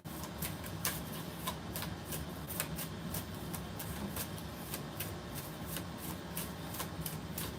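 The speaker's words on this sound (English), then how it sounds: "Every day I'm shuffling." Tarot cards are shuffled steadily during a live reading, giving a close, continuous riffle with rapid crisp flicks and snaps that repeat throughout, with no talking over it.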